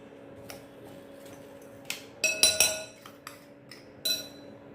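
Semolina and sugar being mixed in a bowl for an eggless lemon rava cake, with a spoon giving scattered light clinks and taps against the bowl, busiest in a quick cluster midway, with no talking.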